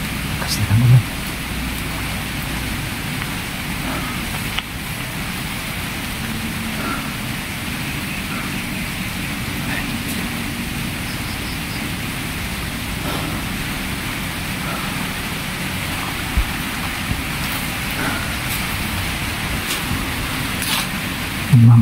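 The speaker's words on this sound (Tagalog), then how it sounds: "Inuulan na." Steady rain falling outdoors at night, a broad continuous hiss with a low rumbling bed that holds evenly from start to end, with a few brief knocks at the edges.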